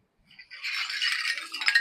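Handmade seashell wind chime shells clink and rattle together in a dense, continuous jangle lasting over a second, fairly close and moderately loud, with no talking.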